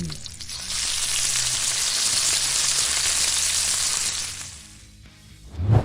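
Bacon frying in a pan, a dense loud crackling sizzle that holds steady for several seconds, eases off, then ends with a brief clatter.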